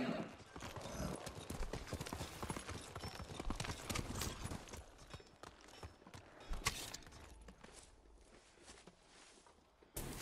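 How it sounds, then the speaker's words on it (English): Horse hooves clip-clop in the Ghost of Tsushima video game, a close rhythmic patter of steps fading somewhat toward the end, with quiet background voices. "Horse!"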